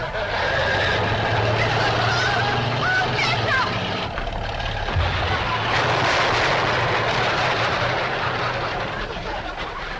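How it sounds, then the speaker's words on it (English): An old truck smashes into a chicken house in a 1962 sitcom scene, with the engine rumbling and fowl squawking and honking in a loud, continuous din, a low thump near the middle, and voices mixed in. "Cousin Pearl and that overgrown son of hers is headed right for the cabin in that old truck"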